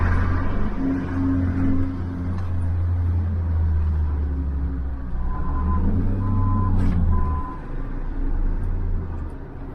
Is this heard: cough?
no